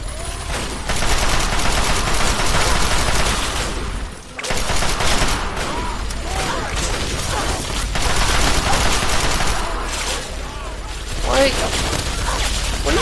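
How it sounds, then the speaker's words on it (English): Rapid gunfire from enemies shooting at the player in Fallout 3, dense bursts and fusillades running almost continuously with a brief lull, mixed with game music and mechanical clatter. "what are you shooting me for?"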